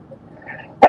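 A single sharp sneeze bursts out after a moment of quiet, short and close.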